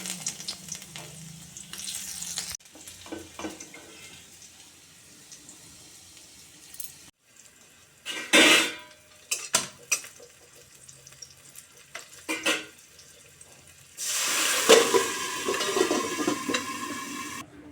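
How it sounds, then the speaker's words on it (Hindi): Tempering of garlic and chili for leafy greens (lal bhaji) in a home kitchen, with low frying and stirring, quiet scraping, and a louder sizzling burst near the end. "फिर मैं बघार लगा दा लहसुन और मिर्चा में"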